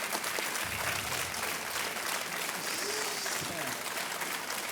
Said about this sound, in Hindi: और तालियां बजती रहनी चाहिए देवियों सज्जनों।